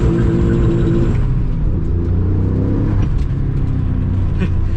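A 393 hp Nissan 300ZX twin turbo (Z32) accelerating hard, with a loud, close engine roar rising in pitch, a short drop around a gear shift, then pulling strongly again.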